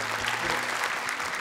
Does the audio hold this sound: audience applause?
yes